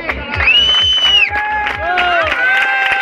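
A crowd at a children's dirt-track speedway award ceremony in El Palmar de Troya claps and cheers with whoops and whistles, loud and close, a sustained tone sounding over the bustling applause.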